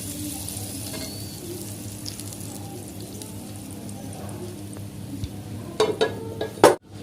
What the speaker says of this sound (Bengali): মশলার মধ্যে আমি এবার ফোড়নটা অ্যাড করে দেব।